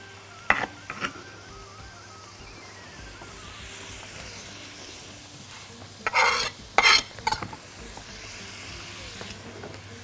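Garlic and onion sizzle and fry in a pan, with a spoon stirring and scraping them around in a few short clattering bursts over a steady low hiss.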